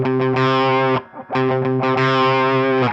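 Distorted electric guitar hammering a driving triplet riff, loud repeated chugging bursts in two phrases separated by a short gap.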